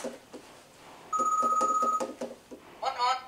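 A toy phone rings in Rizusta phone mode, giving quiet electronic pulses and then a brief, louder, steady electronic ringing tone, followed by a short chirpy jingle at the end.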